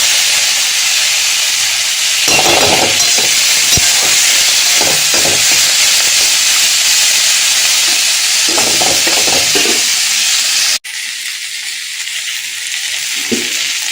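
Pui shak (Malabar spinach) frying with egg in a pan, making a loud steady hiss and sizzle broken by bursts of spatula stirring and scraping, with a sudden drop in the sizzle near the end.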